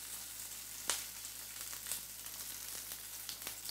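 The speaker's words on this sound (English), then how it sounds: "So I'll just sprinkle a little over the top as I add the prawns to my pan." Prawns sizzle in a hot pan with a steady, hissing fry, broken by a few sharper crackles and pops, and no voices over it.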